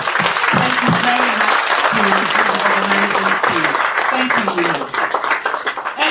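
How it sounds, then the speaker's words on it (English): A loud, dense round of applause fills the room as an audience claps for an organizing team, steady throughout with voices mixed in beneath. "To the entire organizing team, please stand up for a clap."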